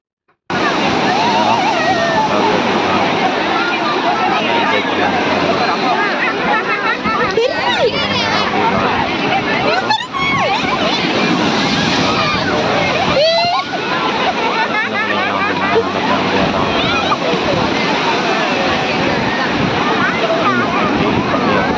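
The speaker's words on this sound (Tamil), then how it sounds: "கடல் கொஞ்சம் உள்வாங்கி தான் இருந்தது" Sea waves at Tiruchendur beach make a loud, constant roar of surf, with a crowd murmuring and voices talking throughout under the washing water.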